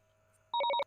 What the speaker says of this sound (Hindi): तभी चाचा जी के फोन पर एक घंटी बजी